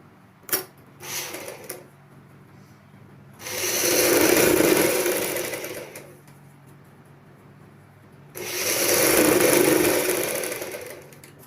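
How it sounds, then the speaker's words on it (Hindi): A sewing machine stitches a choli seam through the lining. After a few short taps it runs in two sustained bursts of about two and a half seconds each, loud and close, with quiet pauses between and no talking. "सबसे पहले आप सेंटर में सिलाई लगा लो"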